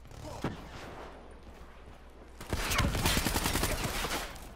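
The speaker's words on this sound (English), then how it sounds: "I shot him in his fucking kneecap." Gunfire in the video game Black Ops III: a lone shot, then a dense burst of rapid automatic fire in the last couple of seconds, loud and close.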